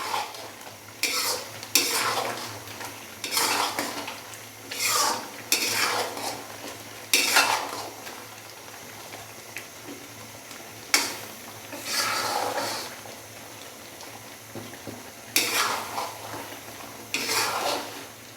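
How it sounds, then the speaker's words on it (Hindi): Beef makhni karahi with butter, an Eid dish, is stirred in a pan with repeated scraping strokes in steady bursts about every second or two, close and fairly loud over a soft sizzle, with no talking. "मक्खन डालने के बाद इसको अच्छे से मिक्स करेंगे और हल्का सा हम इसको मज़ीद कुक कर लेंगे"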